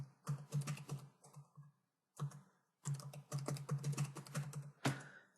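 Fingers type on a computer keyboard in quick close bursts of key clicks, pausing briefly twice, then resuming steadily before a final louder keystroke.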